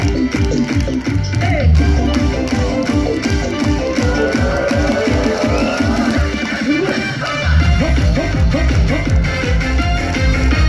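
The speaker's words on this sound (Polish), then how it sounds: "Wszyscy klaszczą i kto ma ochotę, ten śpiewa, ten klaszcze, ten tańczy." An outdoor concert audience in Jasło claps steadily in time with a loud, driving band, a continuous rhythmic patter running under the music.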